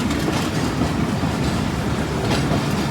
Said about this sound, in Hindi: अभी कुछ ही देर में आएगी मलकवाल जंक्शन की फेमस डायमंड क्रॉसिंग, जहाँ से हमारी ट्रेन गुजरेगी